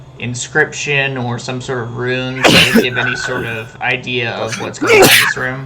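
One sharp, loud sneeze bursts out in the middle of people speaking at a tabletop role-playing game session, and a second sneeze-like burst comes near the end amid the conversation.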